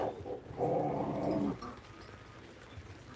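A dog growls and grumbles low for about a second, followed by quieter shuffling.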